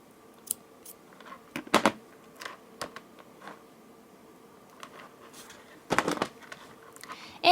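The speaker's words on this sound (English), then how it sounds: "Now, I will take the scissors," Scissors snip through jewelry-making thread, with a couple of crisp close cuts and a few lighter clicks and taps scattered between them, alone in a quiet room.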